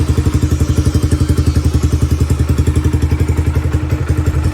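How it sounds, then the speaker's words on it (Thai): A Honda Sonic 125 motorcycle engine idles close by, its exhaust putting out a fast, even train of deep thumping pulses at a steady level. "เครื่องเงียบๆเลยคันนี้จะให้ดูท่อสักหน่อย"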